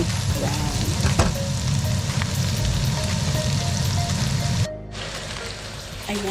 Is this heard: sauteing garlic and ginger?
yes